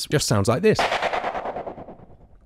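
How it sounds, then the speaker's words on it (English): A synthesized impact sound from a synth effects patch: a sharp hit that breaks into a rapid, fluttering pulse and fades out over about two seconds, following a brief spoken line. "I've made a little impact sound out of one of the effects patches."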